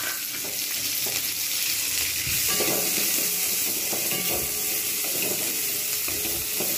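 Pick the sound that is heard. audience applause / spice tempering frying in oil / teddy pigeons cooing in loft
spice tempering frying in oil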